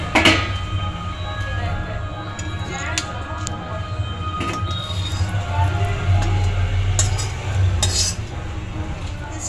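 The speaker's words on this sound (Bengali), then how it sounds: "এরপর একটা প্লেটের মধ্যে আমি ঢেলে নিচ্ছি।" Fried bata fish in chili gravy tipped from a pan onto a plate, with several sharp clinks of metal on crockery and soft scraping through steady kitchen background noise.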